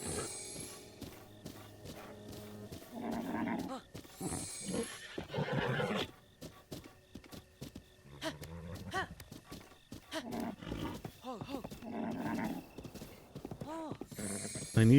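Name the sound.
horse neighing and hooves in Breath of the Wild video game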